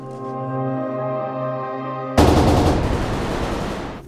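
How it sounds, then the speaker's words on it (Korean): Film gunfire in an underground research base erupts suddenly halfway through, a loud dense burst of shots that fades over the following seconds, preceded by a sustained droning tone. "총소리를 뒤로 한 채"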